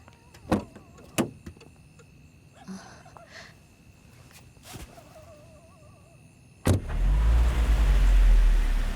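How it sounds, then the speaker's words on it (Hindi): A car in a gated lot at night: a few door clunks and thuds, then the engine starts abruptly and settles into a steady loud running rumble as the vehicle moves off. "आप गाड़ी हटा दीजिए ताकि मैं ताला लगा सकूं।"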